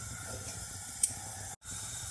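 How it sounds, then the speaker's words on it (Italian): A steady hiss of milk heating to a boil, bubbling and steaming continuously with a brief sharp tick midway and a momentary dropout near the end. "Siamo arrivati a bollore."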